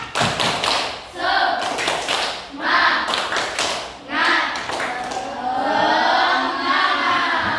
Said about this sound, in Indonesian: Anak-anak, tepuk semangat.